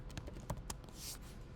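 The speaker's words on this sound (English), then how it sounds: "now this means that we can start typing" Keystrokes on a computer keyboard, tapped in short irregular bursts with a few sharper clicks, faint against a low background hum.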